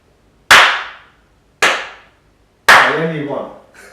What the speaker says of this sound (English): I do a clap sync, innit?